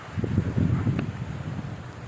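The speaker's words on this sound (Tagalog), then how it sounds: "Kasi ito sobrang lakas ng hangin." Strong wind buffets the microphone outdoors, a steady low rumbling roar with gusty swells throughout and no voices.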